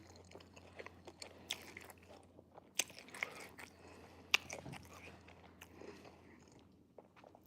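Someone eats crunchy Cinnamon Toast Crunch cereal, producing close, quiet, irregular crunches and bites with a faint steady hum underneath.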